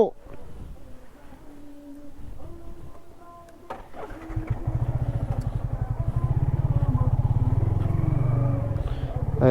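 Several motorcycles idle together on a road trip from Bandarban toward Rangamati, the engines starting up and settling into a loud steady putter after a short stretch of quieter background sound.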